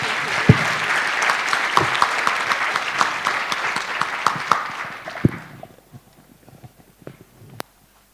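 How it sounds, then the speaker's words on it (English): A conference audience at an evidence summit applauds the panelists with loud, steady clapping that fades out after about five seconds, leaving a few scattered claps and quiet room noise. "Maybe we can have a strong round of applause for our panelists."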